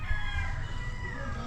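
A brass back gamefowl rooster at a game farm gives one long, loud, close crow that holds steady through to the end, with no talk over it.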